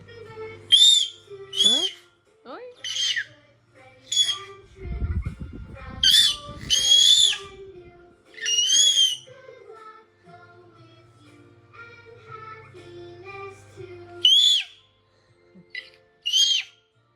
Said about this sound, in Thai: เสียงอะไร เสียงนกหวีดเหรอลูก